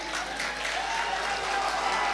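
Audience applause at a mushaira, an Urdu poetry recital, heard as a steady wash of distant clapping from a large crowd throughout the brief moment.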